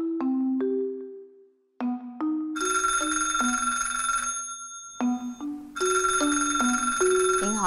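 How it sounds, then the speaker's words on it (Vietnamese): A landline telephone rings in repeated electronic bursts, each a bright warbling tone with trailing bell-like harmonics, loud and close with short gaps between rings and no talking. "Điện thoại kìa."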